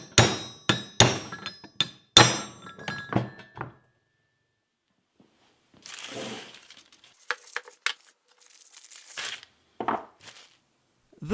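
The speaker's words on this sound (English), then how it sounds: "I'm bashing the new bushing in with a copper hammer" Copper hammer bashing a new Ralco bushing into place on a Land Rover, a rapid series of sharp ringing metallic blows up close, then quieter scattered knocks and handling noises after a pause.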